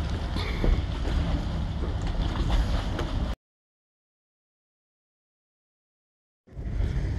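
Dragon's Mouth Spring, a hot spring vent at a mud volcano, gives a steady, loud, broadband rumble with splashing and wind buffeting. It cuts out abruptly into silence for about three seconds, then returns.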